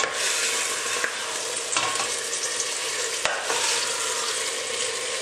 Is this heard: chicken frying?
yes